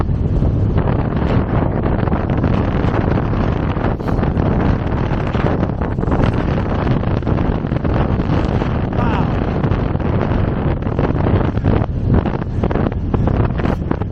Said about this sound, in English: So I bet the wind just goes right over the top of it and comes a blasting through.